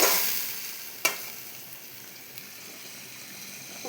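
Cumin, mustard and tomato paste fry in hot oil for a fish dish cooked with mustard paste, giving a steady, soft sizzling hiss with one sharp crackle early on and a fainter one later.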